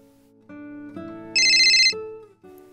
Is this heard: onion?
no